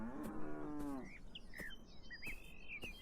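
A cow in the video game Beyond Eyes lets out a single drawn-out moo, while birds chirp and tweet around it in a garden setting.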